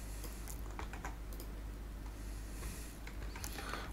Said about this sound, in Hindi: इसमें मैं लिख देता हूँ दिसंबर कैलेंडर